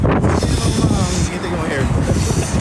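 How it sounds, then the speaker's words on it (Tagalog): Strong wind buffeting a phone microphone outdoors in South Korea, a loud rough low roar with gusty surges throughout, with voices in the background. "Ang lakas ng hangin."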